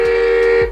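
Horn on a kids' battery-powered ride-on bike gives a loud, steady electronic tone lasting under a second, sounding alone.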